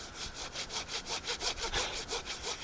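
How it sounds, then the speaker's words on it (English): A Silky folding saw cuts through a log in a steady back-and-forth rhythm, with about a dozen close, even strokes and no voices. "The thing about sawing with Silky folding saws is that you just got to get into the rhythm."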